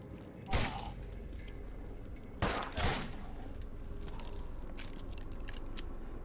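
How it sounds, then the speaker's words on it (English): Video game gunfire from enemies firing at the player: two sharp broadband bursts, one early and a doubled one near the middle, loud and close against a steady background hum, with faint scattered clicks later. "Why are you shooting me?"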